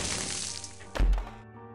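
A bomb goes off in The Binding of Isaac Afterbirth+, a single short low thud with a crack, cutting through a steady bed of game music that drops away after the blast.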